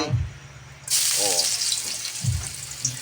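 Chicken adobo sizzles in oil in a pan, a bright continuous frying hiss that swells after the first second, with a voice speaking briefly underneath.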